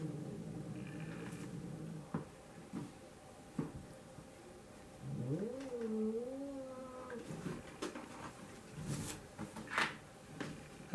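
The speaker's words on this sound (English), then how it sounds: "Hello, you're a nice cat." Pet cat giving a drawn-out, wavering meow around the middle of the scene, loud and close, with scattered household knocks and bumps around it and no talking.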